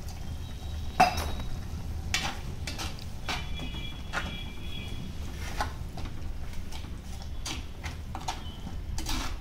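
Onions sautéing in oil in a pan for chana masala, giving a low steady sizzle broken by sharp ticks and clacks of a spoon against the pan, moderately close, with no talking.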